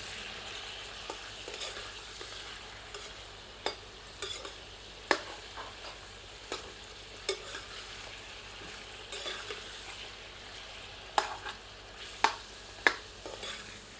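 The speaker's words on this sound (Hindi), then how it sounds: "सबको मिलाकर अच्छी तरह इसको भूनते हैं, लेकिन हम इसे तीव्र आंच पर नहीं भूनेंगे, आंच धीमी ही रखना है और इसको भूनना है" Mutton for Rajasthani jungli maas browning slowly over a low flame, a quiet, steady sizzle punctuated by scattered clicks and scrapes of a stirring spoon against the pot.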